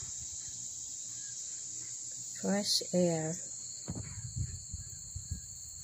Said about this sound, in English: You just hear the birds, the crickets, and my cats.